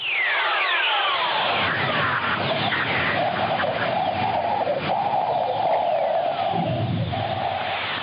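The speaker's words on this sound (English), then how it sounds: "This is the sound of the universe, as various spacecraft have heard it over the last 50 years." Eerie whistling tones sweep and glide over a steady hiss, with a warbling band in the middle, space radio emissions recorded by spacecraft rendered as sound, continuous and alone.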